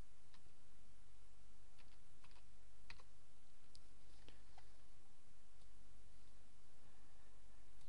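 Someone types a complicated password on a computer keyboard while setting up a WordPress blog user, producing scattered soft key clicks over a steady low hum with no talking.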